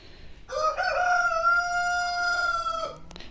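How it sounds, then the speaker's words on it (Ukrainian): A rooster crows once, a long, loud, drawn-out call close by, with faint background noise before and after. "Півень підтвердив."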